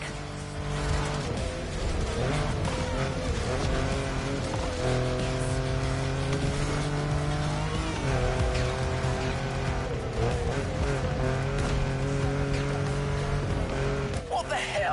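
Car engine revving steadily in the racing video game The Crew Motorfest, with tire squeal and skidding mixed in under a continuous game music bed and a talking voice.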